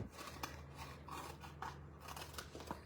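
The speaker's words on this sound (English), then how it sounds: "when I have a big sheet like this, I prefer to use my bigger scissors. It just cuts easier." Large scissors slice through a foam adhesive sheet for a papercraft pumpkin card, giving a series of crisp, close snips and crunchy cuts spaced irregularly across a quiet room.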